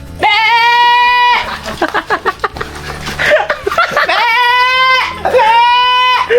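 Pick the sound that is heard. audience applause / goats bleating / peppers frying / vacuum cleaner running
goats bleating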